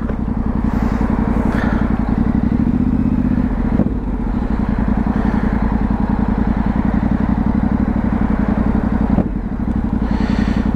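A motorcycle idles steadily in Sofia city traffic, its close, loud engine throbbing continuously with small revs and faint surrounding street noise.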